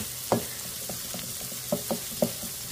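Onion, garlic and ginger sauté in a pan for ginataang alimango, a soft background sizzle with several sharp scraping stirs of a spatula at irregular intervals.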